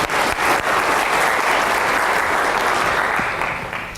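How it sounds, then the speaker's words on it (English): An audience at a graduate welcome event at Santa Cruz applauds to greet the dean of graduate students. The dense, loud clapping holds steady, then tapers off over the last second. "please give me a round of applause"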